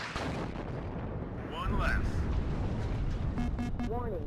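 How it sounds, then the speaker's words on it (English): Booming mortar fire and explosions from the WARNO real-time strategy game roll under continuous voice narration, with a dense low rumble throughout and a swelling burst midway, plus faint whistling tones. "Mortars going to be harassing an infantry that I thought I saw."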